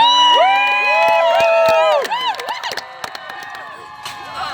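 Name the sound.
crowd cheering at medieval festival joust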